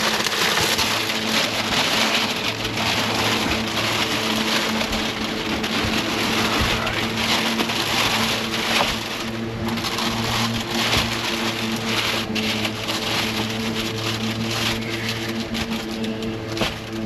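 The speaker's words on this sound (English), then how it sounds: "Sorry for the fan noise behind you." Electric fans running inside a camper van at a campsite give a steady, close broadband whoosh with a low hum underneath, unbroken throughout.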